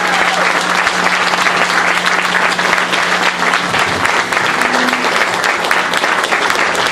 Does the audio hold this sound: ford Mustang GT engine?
no